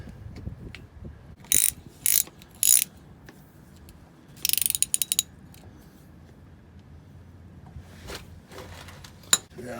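Ratchet snugging the drain and fill plugs on a vehicle's rear axle: several short bursts of fast clicking separated by pauses and small clanks, close and crisp against a quiet garage background.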